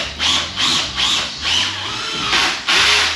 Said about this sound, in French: à me mettre d'équerre et à visser